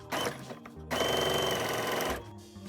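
A sewing machine runs in two bursts, a short one and then a longer steady rattling stretch, stitching along the middle seam of a tote bag handle, close and clear with no talking.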